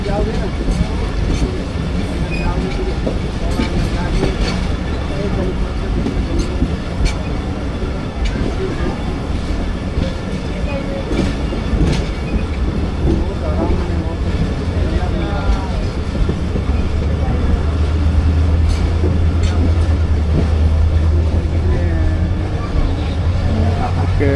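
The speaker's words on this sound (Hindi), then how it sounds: "मीटिंग रेलवे स्टेशन से पास हो रही है हमारी ट्रेन" Riding aboard the Rehman Baba Express (47 UP) between Karachi and Rohri as it passes through a railway station, a steady loud rumble of the moving train fills the whole stretch, with rhythmic wheel clatter, rattling coaches and occasional voices nearby.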